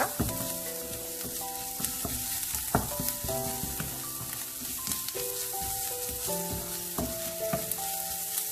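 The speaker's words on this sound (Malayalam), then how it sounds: "1 ടീസ്പൂൺ മുളക് പൊടി കൂടി ഇട്ട് കൊടുക്കുക. നന്നായിട്ട് വഴറ്റുക." Tomato chutney masala with chili powder is sautéed in a pan, a steady low sizzle broken by repeated scraping and knocking strokes of the spoon, close and moderately loud, with faint tonal background music.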